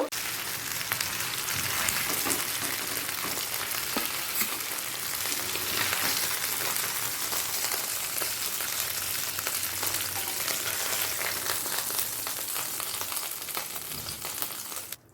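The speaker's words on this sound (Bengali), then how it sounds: "আমি একসাথে তিনটে দিয়ে দিলাম তবে আপনারা দুটো করেও ভেজে নিতে পারেন" Three pomfret fish pieces frying together in hot oil, making a dense, continuous crackling sizzle that holds steady and close for the whole stretch, with no voices.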